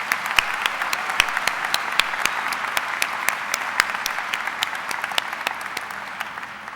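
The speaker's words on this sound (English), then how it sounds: "Please join me in giving these fine citizens a round of applause." An audience at a 2007 high school graduation applauds the board of education members, steady sustained clapping with a few sharp individual claps standing out close by.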